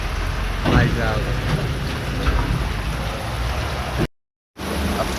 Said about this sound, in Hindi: अब कहने को तो हम लोग बारिश से बचे हुए हैं